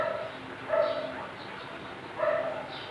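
Dogs bark twice at a moderate distance, with short, separated yelps over a steady background hum.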